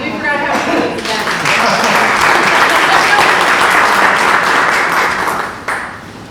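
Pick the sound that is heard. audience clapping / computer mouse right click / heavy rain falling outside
audience clapping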